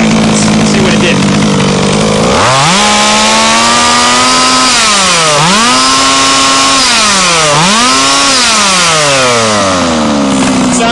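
A small gas engine on an HPI Baja RC car runs loudly up close, buzzing at idle before revving up and down in repeated rising and falling sweeps.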